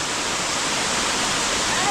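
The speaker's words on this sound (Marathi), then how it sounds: "तिथे हा छोटेखानी धबधबा आहे" A small waterfall near Sakharpa in Konkan, on the road to Guravwadi, pours in a dense, steady, close rushing roar with no pauses.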